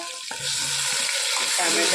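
Loud, steady sizzling of green chilies and garlic frying in hot oil for khichdi tempering, with brief clinks and stirring sounds over the hiss.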